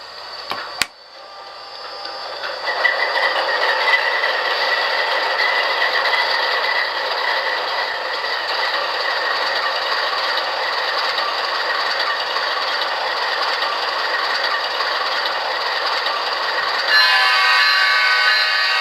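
A small electric motor whirs and clicks steadily for a long stretch, a close mechanical drone of an Athearn HO scale P42 model locomotive running on a track.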